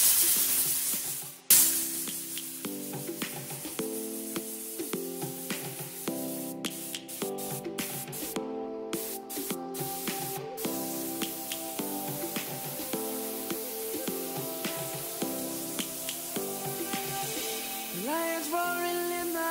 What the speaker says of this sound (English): Car spray gun.